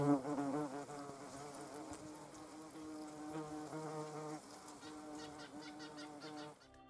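A wasp buzzes while caught inside the closing leaves of a Venus flytrap, a steady insect drone running close and continuous throughout, with no talk over it.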